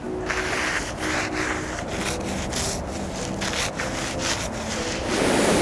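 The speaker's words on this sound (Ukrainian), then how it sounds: "Важливо зачистити не лише ґрунт, а й стовбур від лишайників і моху." Lichen and moss are scraped off a tree trunk while an orchard is prepared for winter. The scraping is close and rubbing, with repeated short strokes over a steady rasp.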